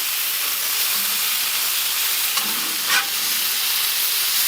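Smash burger patty frying on a hot griddle after being flipped, a steady loud sizzle and hiss with a brief scrape or pop near the end.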